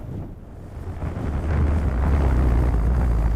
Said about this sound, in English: Just in time for a gust. So it's about 35-mile-an-hour wind at the moment.